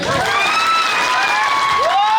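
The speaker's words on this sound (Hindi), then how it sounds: "कंपनी के मैनेजर मिस्टर बाबू ठाकुर सर के दिल से जोरदार तालियां।" An audience bursts into loud, dense clapping at a company celebration in Himatnagar, with sliding whistles and cheering mixed in, close and sustained throughout.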